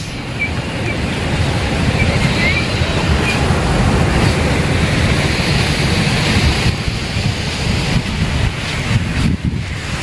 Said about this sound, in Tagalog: Maalon din dito guys ang dagat.